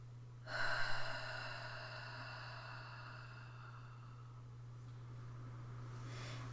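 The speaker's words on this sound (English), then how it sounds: "One more nice deep inhale and exhale." One slow, deep breath in and out, a soft airy rush that swells near the start and fades into a quiet, steady hiss, with a constant low hum underneath.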